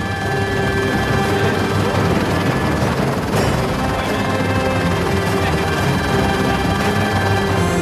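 A helicopter carrying an infrared scanner mounted underneath flies over fields and forest, its rotor and engine roar loud and steady throughout, with a brief swell midway.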